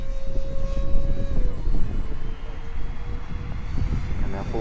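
An Avios KingTwin 1700mm twin-engine RC model airplane flies at full throttle with a steady, loud motor whine that shifts in pitch as it turns and passes, over constant outdoor background noise.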